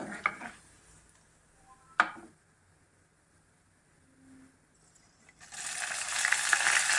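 Chopped ginger and green chilies go into a hot pan with a couple of sharp clatters, then a loud, rising sizzle of frying takes over near the end.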